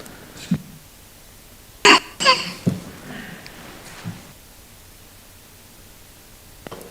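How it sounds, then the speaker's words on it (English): Isolated coughs and throat clearing from a person in a council meeting chamber, a couple of sharp close bursts among faint rustling and low room noise. "Good cough, mate. Give it a good one."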